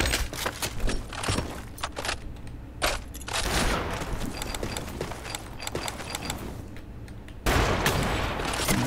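Gunfire in a video game shooter: rapid bursts of automatic shots and sharp single cracks, close and loud, dense at first, then a steadier rattling stretch and a louder burst at the end, with no talking.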